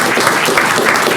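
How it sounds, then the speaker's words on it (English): Dense audience applause at an opioid policy meeting, a steady wash of many hands clapping at once, loud and close, with no voices breaking through. "Give him a round of applause."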